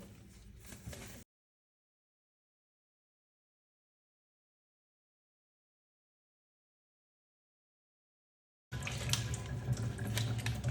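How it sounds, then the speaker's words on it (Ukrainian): Tap water running while rinsing a kitchen hood being cleaned, a brief splashing stream, then silence for several seconds, then the flow resumes louder. "Продовжуємо чистити з водою."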